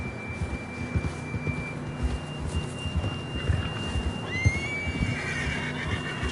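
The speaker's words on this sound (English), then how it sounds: "John was riding that horse when we left Blackwater" A horse whinnies and snorts in Red Dead Redemption 2, a drawn-out neigh rising near the end over soft hoof movement and wind in an outdoor game scene.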